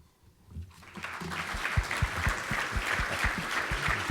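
Audience clapping after David Suzuki's talk at a sustainability summit, starting from near silence and building into steady, moderately distant applause with some sharper individual claps.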